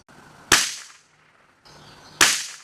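Two sharp .22LR rifle shots fired at an old hard drive clamped to a log outdoors, each a loud crack with a short ringing tail, spaced about one and a half seconds apart.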